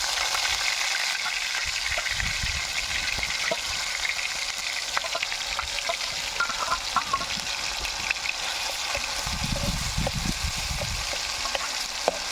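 Ginger garlic paste frying in hot oil with mustard seeds and cumin, a steady broadband sizzle with crackling pops running continuously throughout, close and fairly loud, no voices.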